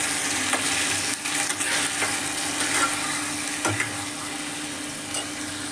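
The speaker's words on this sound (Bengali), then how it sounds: "মশলাগুলো দিয়ে ভালো করে নেড়ে চেড়ে মিশিয়ে নেব।" Potatoes and onions fry in a pan with spices added, giving a continuous soft sizzle. A spatula stirs and scrapes at intervals. No one speaks.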